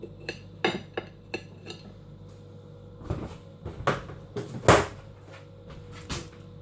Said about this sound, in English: I'm chopping off the end of the cucumber